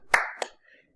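A lecturer's hands meet in one sharp, close clap, followed by a quieter second clap, then silence.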